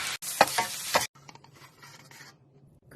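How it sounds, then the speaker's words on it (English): Shrimp fried rice is stir-fried in a pan with soy sauce and mirin, loud scraping sizzle bursts for the first second, then quieter intermittent stirring and faint sizzling. "Stir fry 1 to 2 minutes"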